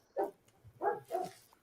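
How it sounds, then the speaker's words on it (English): A dog barks three times in quick succession, fairly close and clear, wanting to be let inside; no other sounds compete. "If it's Topher's dog, then she is saying, let me in"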